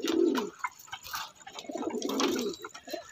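Racing pigeons coo softly in a loft after a training flight, repeated low burbling calls close by, with no talk.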